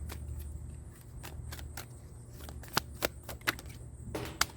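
Tarot cards shuffled in a series of sharp riffles and taps that grow more distinct toward the end, close by over a low background hum.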